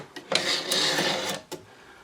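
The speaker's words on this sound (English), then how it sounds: "Pull out our buffer spring." Pulling the buffer spring out of a Century Arms PSL 54 rifle: a short metallic scrape and rasp of the coil sliding free, bracketed by a few small clicks, close and fairly quiet.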